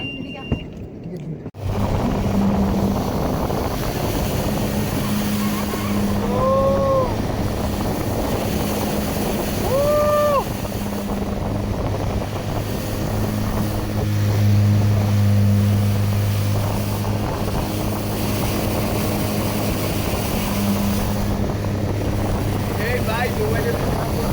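A speedboat pulls away on the water at an amusement park resort, its engine a steady, loud drone with voices faintly over it.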